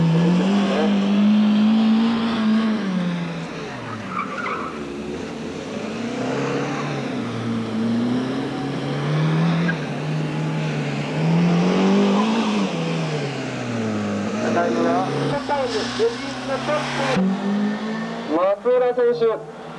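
A rally car on a 1988 gymkhana course at Kanetsu Sportsland, its engine rising and falling as it revs hard through turns, with a brief tire squeal, while an announcer talks throughout.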